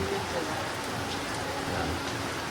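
Heavy rain pours down in a dense, continuous hiss, loud and unbroken, with a faint low tone underneath.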